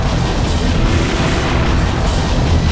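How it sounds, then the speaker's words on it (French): Cannon fire in the shooter game Serious Sam, a dense, loud, sustained booming rumble with no clear gaps, like heavy blasts and explosions blending together. "Le boulet de canon."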